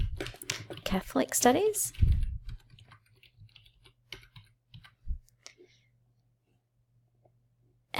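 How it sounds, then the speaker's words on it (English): Keyboard typing on a computer while entering a class name into Google Classroom, heard as scattered, fairly soft key clicks after a stretch of speech in the room. "So I will type in the name of the class"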